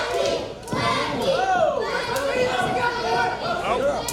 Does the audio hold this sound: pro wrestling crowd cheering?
yes